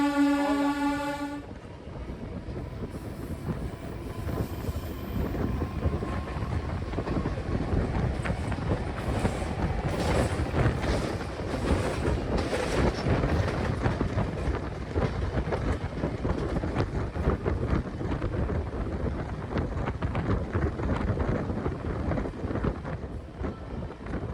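A MEMU commuter train from Purulia via Bankura enters Howrah Junction station. A horn blast opens, then a continuous loud rumble and clatter of the moving carriages follows, with wind buffeting the microphone.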